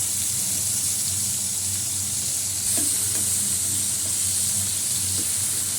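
Potatoes frying with tomato in a pan give a constant close sizzle with soft stirring clinks, loud and continuous.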